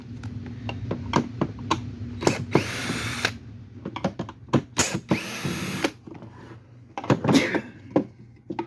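A power drill backs screws out of a Sanitaire canister vacuum, with short whirring bursts, clicks and rattles of parts in a close, irregular rhythm and no talking.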